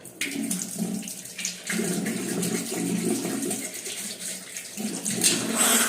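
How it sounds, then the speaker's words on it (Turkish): Water gushes steadily from a bathroom tap while something is rinsed under it. The flow is loud and close, with splashing that shifts as objects move through the stream, and there is no talking. "Dur sudan yıkayayım."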